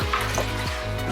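Tanning mixture being stirred in a bucket: a steady watery swishing and sloshing with soft repeated strokes, close and fairly quiet, with no voices.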